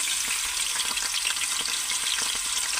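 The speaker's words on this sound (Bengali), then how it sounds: "এবার আমি ট্যাংরা মাছ এক একটা করে ছেড়ে দেবো," Tangra fish fry in very hot oil, making a loud, dense, unbroken crackle and sizzle from start to finish, heard up close with no voices.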